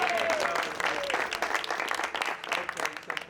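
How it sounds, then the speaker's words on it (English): A small group claps together around a table during a cast read-through for a feature film, the brief, fairly close applause rising and fading over a few seconds. "Round of applause for us!"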